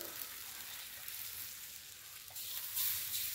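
Quails deep frying in hot oil at home give off a steady, fairly quiet sizzle and crackle that holds for a few seconds, getting slightly louder near the end with no talking.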